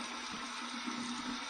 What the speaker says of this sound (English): Let's run it under some cold water